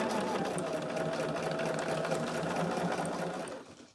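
A sewing machine stitches a charm tote with a steady, close, loud mechanical whir that runs without a break, then slows and fades at the end.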